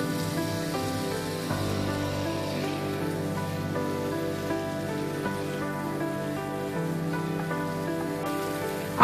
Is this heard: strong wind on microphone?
no